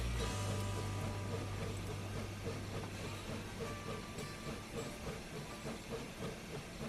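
A locomotive rolls past in the Railworks train simulator on a winter morning run to Promontory, giving a steady close rumble with hissing steam and a low sustained tone, plus faint rhythmic clatter of cars that eases slightly toward the end.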